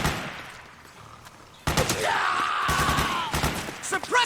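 Firefight in Metal Gear Solid 4: a burst of loud gunfire erupts partway in, dense rapid shots mixed with yells and a groaning cry, after a quieter tense stretch.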